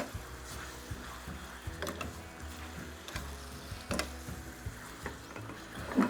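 Chicken being stirred and fried in a pan for chicken basil over rice, a soft sizzle under irregular scraping and clattering of a utensil against the pan, close by with no talk.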